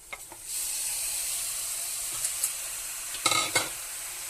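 Goat meat fries and is stirred in a pan for daal gosht, giving a steady bright sizzle throughout with a few scraping strokes of a spoon near the end, close and loud.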